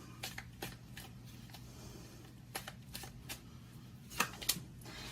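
Tarot cards are shuffled close by for a Virgo reading, with a series of quick papery riffles and flicks, and two louder snaps toward the end over a low steady hum.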